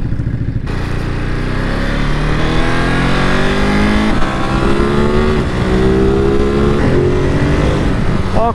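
A Ducati Monster 937 motorcycle engine revs hard and close, its loud tone climbing again and again through the gears in rising sweeps, with brief dips between pulls.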